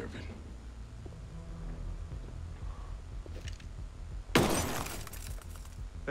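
Glass shatters loudly and suddenly in the video game Ghost Recon Breakpoint, a bright crash trailing into falling shards over steady background rumble and game ambience.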